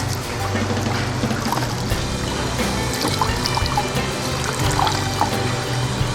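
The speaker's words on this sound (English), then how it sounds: "We're going to wring out as much as we can get." Water wrung out of a wet raccoon hide during tanning, a close continuous trickling and splashing that pours steadily, with occasional small drips and sloshes.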